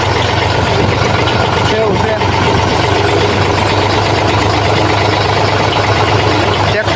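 A tractor engine idles with a steady, loud, low rumble that runs unbroken throughout, while someone talks over it.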